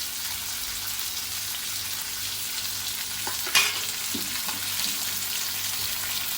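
Fish coated in masala frying in an oil pan, a steady bright sizzle running the whole time, with a faint low rhythmic hum beneath and a brief clatter midway as the pan is handled.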